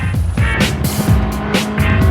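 A car engine revs hard while tires squeal and skid in repeated bursts on a race track, loud and close.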